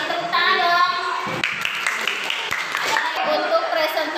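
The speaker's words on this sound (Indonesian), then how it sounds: "terima kasih, tepuk tangan dong" Classroom applause with hands clapping steadily for several seconds, a dense patter of claps in a room, with children's voices mixed in.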